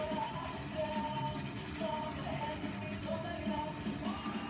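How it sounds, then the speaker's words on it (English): Rhythmic scratchy rubbing strokes of sanding a Telecaster-style guitar's wood, quiet and close, repeating steadily under soft background music. "The sanding is working out really nicely here."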